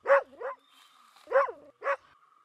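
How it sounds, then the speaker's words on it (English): A domestic dog on a farm gives four sharp, close barks in two quick pairs, loud and clear with quiet gaps between them. "What sound does a dog make?"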